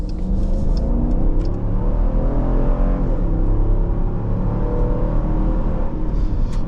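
A 2026 Dodge Durango GT Plus with a HEMI V8 pulls hard under acceleration, a loud, steady, deep engine roar and rumble filling the cabin throughout without a break; no voices.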